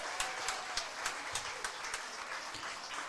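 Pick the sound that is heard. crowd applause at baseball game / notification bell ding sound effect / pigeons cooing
crowd applause at baseball game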